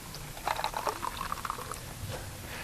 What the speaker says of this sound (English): if we add some water to the cup and then stir it up